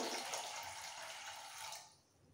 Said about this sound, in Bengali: তার মধ্যে দিয়ে দেবো হালকা গরম জল